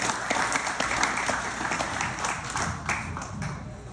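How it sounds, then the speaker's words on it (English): Audience at a town main street network meeting applauding, dense steady clapping across the room at moderate loudness for several seconds. "Everyone in this room deserves a round of applause"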